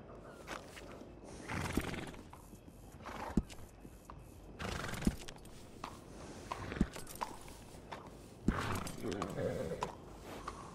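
Horse neighs and whinnies in Red Dead Redemption 2 at a stable, several bursts spread through the clip with hoof clops and game voices talking in between.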